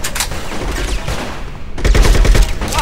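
Gunfire from the video game Bad Boys: Miami Takedown crackles in a loud fusillade, with scattered shots first, then a denser burst of rapid fire near the end.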